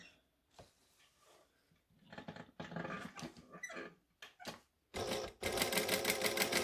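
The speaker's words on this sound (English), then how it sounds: "So next pocket, line her up, stitch her down." Sewing machine stitching down a pocket, running in short bursts and then a longer steady whir, close and fairly loud with small handling clicks between runs.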